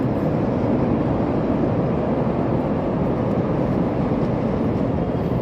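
A Chicago L elevated train rumbles past at a steady, continuous level, a broad low roar with no talking on top.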